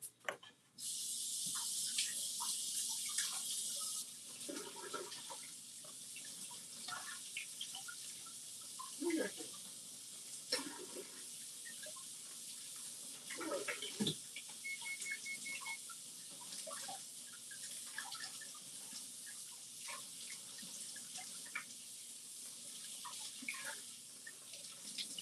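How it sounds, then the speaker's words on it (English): Water from a kitchen sink tap runs steadily over a frozen item stuck to a board, a bright hiss that starts strongly and then continues at a lower level, broken by clinks and bumps as the item is handled. "Gonna run this under some water."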